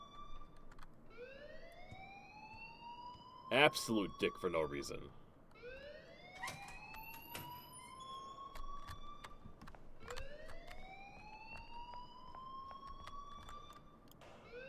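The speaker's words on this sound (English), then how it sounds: "please turn off that alarm since that's your job." A rising, repeating electronic alarm tone in the video game Life is Strange sweeps upward in long cycles over a low background, with a brief burst of clatter and a voice speaking partway through.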